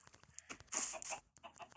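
A chicken in a video game gives a few short, clucking squawks, close and fairly faint, in quick bursts.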